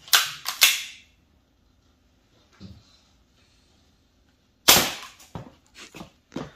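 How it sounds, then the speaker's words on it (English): Pellet or BB guns fire in short sharp cracks: a quick double shot, then a pause and a cluster of snaps with fainter clicks, close and dry with no talking. "all these are actually pellet guns, BB guns"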